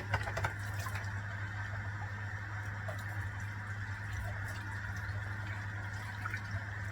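Hot water runs from a kitchen tap into a bowl, a steady close flow with a constant low hum and small splashes, with no one speaking.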